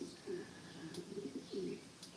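Pigeons coo softly in a few low, rounded calls, faint and somewhat distant, with a couple of brief higher chirps in between.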